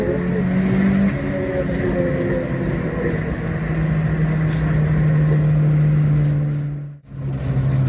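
Turbocharged 2.0-litre Vauxhall Nova GTE accelerating hard along a winding road, engine drone loud and continuous from inside the car, rising in pitch before a brief gear-change dip, then pulling again.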